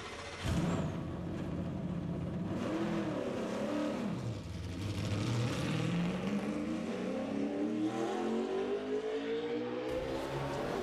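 A stock car at Daytona 500 qualifying in 2014 roars steadily at full throttle, close and loud, with its engine pitch sweeping and then climbing as it runs low and drags on the racetrack.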